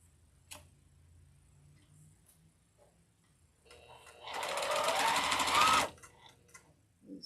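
A home sewing machine stitches fabric pieces in one loud, fast burst of about a second and a half, after quiet with faint ticks and light handling noises.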